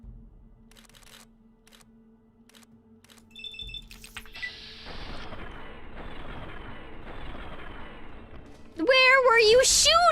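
Gunfire in the video game Fallout: New Vegas, a few sharp shots standing out over game sounds and a brief burst of talk near the end.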